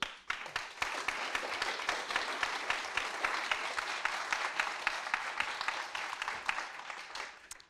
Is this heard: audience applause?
yes